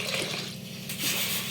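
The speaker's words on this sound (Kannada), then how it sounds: "4 ಗ್ಲಾಸ್ ನೀರು ಹಾಕೋತಿದ್ದಾರೆ" Water is poured into a pot of rice and lentils for huggi, a brief splashing gush that fills steadily and swells again near the end.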